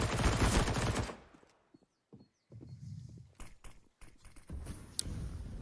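SMG fire in a Counter-Strike match on Overpass: a loud sustained burst of rapid automatic shots opens, then after a brief gap come scattered shorter bursts and single shots, close and sharp, with one bright crack near the end.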